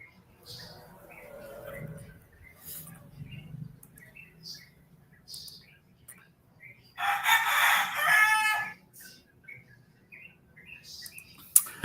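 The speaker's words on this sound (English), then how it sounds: "Besides the roosters, can you hear me?" Roosters crowing during a chat with friends, one loud, near cock-a-doodle-doo in the middle standing out over quieter chirps and background noise, with scattered faint calls around it.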